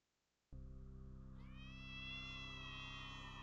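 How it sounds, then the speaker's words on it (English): A cat lets out one long, continuous meow, loud and close, holding steady before rising slightly in pitch toward the end, with no one talking over it. "Oh, kitty cat."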